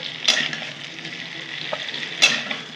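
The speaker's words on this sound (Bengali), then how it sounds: "একটু ভালো করে ভেজে নেব" Cauliflower florets frying in a pan for a festive-style vegetarian cauliflower curry, giving a steady, close sizzle with two sharp stirring scrapes.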